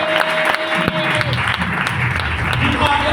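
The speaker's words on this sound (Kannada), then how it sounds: "ಚಪ್ಪಾಳೆ ಹೊಡಿಸ್ತೇವೆ" Applause from a congregation at an all-night Kannada prayer service, dense steady clapping from many hands filling the whole stretch at a fairly loud level.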